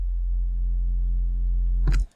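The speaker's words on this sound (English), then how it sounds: "It's a massive sine wave, and I'm just dialing in a tiny bit of a smooth square wave." A synth chime holds as a steady pure sine tone with a faint smooth square-wave edge, then ends in a brief bright strike before cutting to silence.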